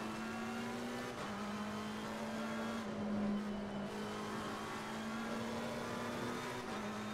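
Race car engine in a racing video game, a sustained steady drone that shifts pitch slightly as it holds and rises, continuous and moderately distant with no voices.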